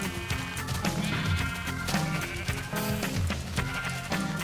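Sheep in the Minecraft video game, bleating in short repeated calls over a dense, busy game soundscape with music-like tones throughout.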